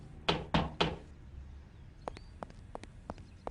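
Knocking on a door: three loud, heavy knocks in quick succession, then a run of lighter, sharper taps spaced irregularly, close and with no talking.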